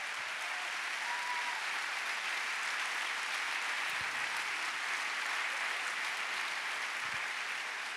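A large audience in the Kursaal hall applauds steadily and loudly after a live painting session, with continuous dense clapping that stays at an even level throughout.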